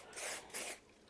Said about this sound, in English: I'm just going to give it a spray around this wheel arch return